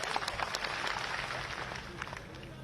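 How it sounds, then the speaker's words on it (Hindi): A crowd applauds at a political rally, dense clapping from many hands forming a steady moderately loud roar that tapers slightly toward the end. "तो जोरदार ताली बजा के उनका स्वागत करो"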